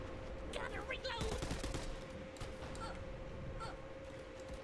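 Gunfire in a video game shooter crackles in quick bursts and scattered shots, faint and mixed with other game sounds.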